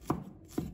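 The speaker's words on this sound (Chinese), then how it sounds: "再准备一块生姜，把它切成片，再切成丝，" A knife chops fresh ginger on a board with two crisp, close, evenly spaced thuds in a quiet kitchen.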